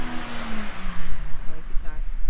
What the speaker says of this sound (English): noisy car.